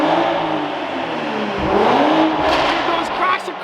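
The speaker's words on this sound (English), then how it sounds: "I gotta let it warm up though so we can rev it" A car engine revs loudly and close during a build with first major mods, a sustained roar rising and falling, with faint voices underneath.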